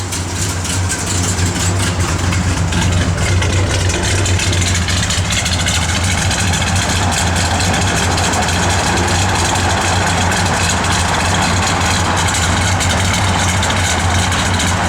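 A 1969 Dodge Super Bee Mopar V8 idles steadily with a deep, lumpy low rumble, loud and close, running continuously and alone without talk.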